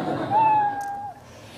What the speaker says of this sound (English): When the light goes below a certain level, it plays the kitten sound.